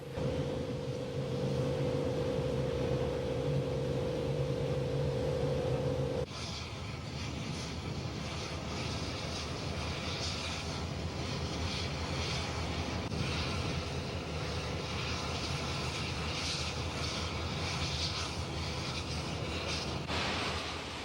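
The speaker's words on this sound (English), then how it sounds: "With cylinder cocks open, the engine departs the shop area." An oil-fired Union Pacific Challenger steam locomotive pulls out of the shop area with its cylinder cocks open. A steady idling hum gives way to a loud, continuous, close-up roar of hissing steam that lasts to the end.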